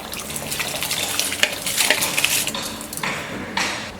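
Soaked, washed rice being drained, water pouring and splashing steadily in a kitchen with light clinks of a pot or utensil, fairly close, no talk.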